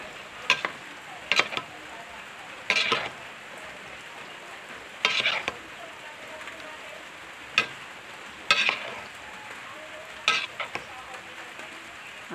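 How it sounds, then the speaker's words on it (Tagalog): Spicy ginataang langka, young jackfruit in coconut milk with chili, stirred in a pot on a stove: a steady soft simmer broken by periodic scraping strokes of a spoon, about six distinct stirs spaced a couple of seconds apart. "Haloin siya hanggang maghalo yung mga lasa"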